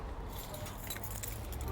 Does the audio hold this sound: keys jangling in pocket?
yes